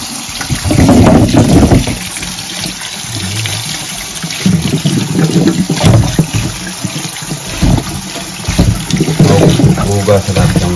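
Items being washed under running water from a tap, a steady gushing splash with clattering handling, while people talk throughout.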